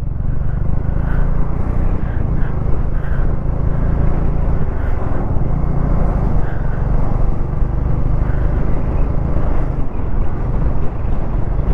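Heavy lorries pass on a mountain road on the way to Srinagar, heard from a moving motorbike as a constant low rumble of engines buried under steady wind buffeting.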